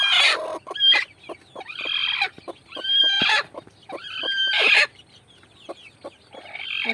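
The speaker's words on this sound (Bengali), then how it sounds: "আর এখন আর বাকি 3টা মুরগি দেখাই।" Several pure desi hens, one of them broody, cluck and call in short overlapping bursts close by, with brief pauses between calls and a faint crow-like note; no talking.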